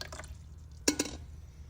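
Drops fall from a home coffee maker into a pot in an otherwise quiet kitchen, with two sharper splashes standing out near the middle.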